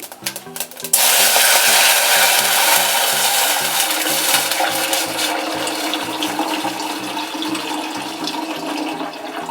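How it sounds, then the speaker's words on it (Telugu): Water is poured into a cooking pot of fried asafoetida for lemon rasam, rushing and gushing steadily for several seconds after a short start, a loud continuous pouring with a low rhythmic hum underneath. "ఇప్పుడు దాంట్లో నీళ్లు పోసుకుందాం"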